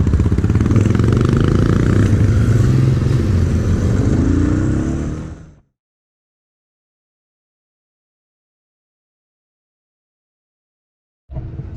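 A loud, close motorcycle engine roars and revs for several seconds at a motorbike show, then cuts off abruptly into silence before another burst of engine noise.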